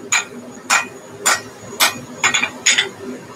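Hammer on hot steel while forging a Viking axe and scarfing the steel for a forge weld: six sharp metallic strikes in a fairly even rhythm, loud and close, a couple of them doubled.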